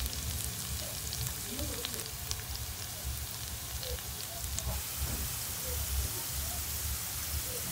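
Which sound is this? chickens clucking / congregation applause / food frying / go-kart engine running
food frying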